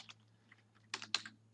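A few soft keystrokes on a computer keyboard, faint taps at first then a quick cluster of louder clicks near the end, alone over a low hum.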